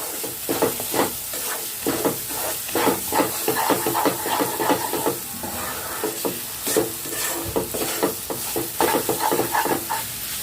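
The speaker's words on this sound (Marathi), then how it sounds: "ती सर्व मुगडाळ यात घालायची आहे व्यवस्थित मिक्स करून घ्यायचे आहे" Ground moong dal being stirred into a hot pan for halwa: a rhythmic run of close scraping and stirring strokes over a soft sizzle, with no voices.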